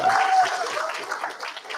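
Audience applause at an annual award ceremony dinner, a short burst of clapping from a crowd with a tonal hum or voice-like tone underneath, fairly loud and reverberant.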